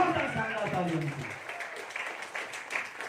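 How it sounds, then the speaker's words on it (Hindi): Audience at a business plan presentation breaking into applause, a dense patter of many hands clapping at moderate loudness, with voices mixed in. "एक जोरदार शानदार तालियों से।"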